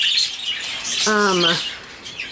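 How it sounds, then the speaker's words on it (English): A caged aviary bird gives a short, clear whistled phrase amid softer background chirps, one brief bright call standing out near the middle. "he sings a different song than the males in my aviary"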